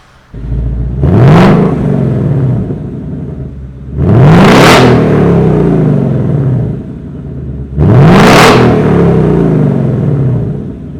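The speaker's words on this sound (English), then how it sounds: "So let's go ahead and do some revs." A Ford Mustang GT with an X-pipe and active exhaust in track mode revs three times, each loud, rising engine roar held briefly before dropping back to a steady idle rumble.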